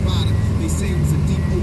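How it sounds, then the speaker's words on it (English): An Acura Integra engine idles with a steady low hum while still warming up, heard close under someone talking. "That's where she's idling right now."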